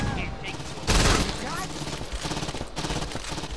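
Submachine gun fire in the video game Saints Row 2, a short loud burst of rapid shots amid game noise and someone talking.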